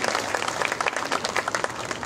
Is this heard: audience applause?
yes